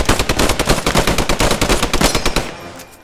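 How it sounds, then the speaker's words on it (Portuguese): Rapid machine-gun fire and rifle shots crackle through a World War II battle in Post Scriptum, loud and dense bursts pulsing steadily before tapering off near the end, with no voices. "Atirar, senão eles atiram de novo."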